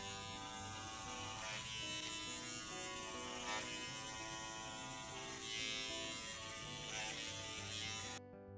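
Rug carving machine trimming the pile of a tufted rug, giving a steady close electric buzz with a gritty ratcheting texture and a few brief surges, running continuously until it cuts off near the end.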